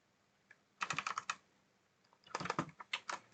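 Keys clack on a computer keyboard in two quick bursts of close, crisp typing, with a short quiet gap between them and no talking.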